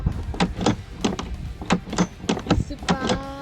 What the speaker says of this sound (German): Die Tür geht jetzt wieder super auf und zu.